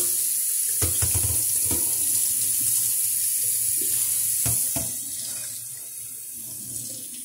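Running water rinses Easy Off cleaner from an oven interior, a steady close hiss of flow with a few splashy knocks and bumps, easing slightly toward the end.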